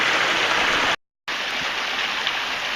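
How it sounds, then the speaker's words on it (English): Steady rushing water from a small creek at Tobe Creek, a continuous close broadband wash that cuts out briefly and then resumes at the same level. "Really pretty creek."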